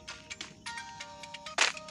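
A phone ringtone plays a short, bright melodic pattern of repeated electronic tones, close and fairly loud, with no talking over it.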